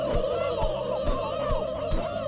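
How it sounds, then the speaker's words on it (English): A flock of angry turkeys gobbles nonstop in a South Park video game, their warbling calls overlapping in a dense chorus over regular low thumping beats. "Oh my god, so many turkeys!"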